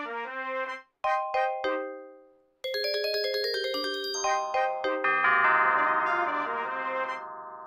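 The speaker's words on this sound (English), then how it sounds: "The bells are something I never thought of, but they're very cool." Orchestral bells ring out bright, clear struck tones in short melodic runs, pausing briefly, then building into layered sustained ringing notes that hold toward the end.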